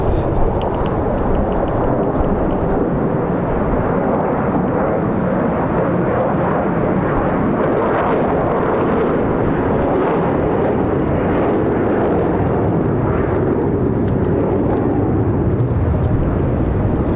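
A Republic Airways airliner takes off at Raleigh-Durham International on a windy day, making a loud, continuous broadband jet roar. The roar stays steady throughout and is buffeted by wind noise, with no clear speech.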